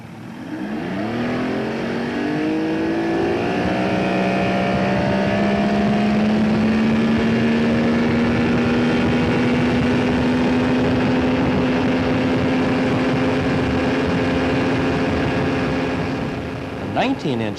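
A motorboat running at speed on a 19-inch pitch propeller, its engine a loud, steady drone that rises in pitch early on and then holds high and even throughout.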